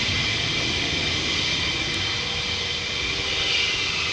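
Military jet engine at RAF Lakenheath roaring steadily and loudly, a dense unbroken wall of hissing thrust noise with no voices over it.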